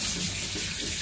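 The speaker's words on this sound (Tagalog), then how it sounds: "hugasan ko lang siya." Tap water gushes steadily into a sink as lamb meat is rinsed, a close, dense hiss with no pauses across the short stretch.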